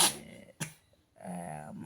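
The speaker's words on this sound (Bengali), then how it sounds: "মামা একটু খক করে কাশছে।" An adult man coughing after waking in the morning: two short, harsh bursts followed by a longer, rougher voiced cough, heard close by in a quiet room.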